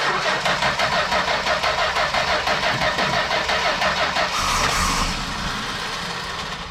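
A Mopar big-block V8 fitted with a FireCore distributor cranks with a steady rapid starter chug, then catches and fires into a loud, rough idle up close, with no voices.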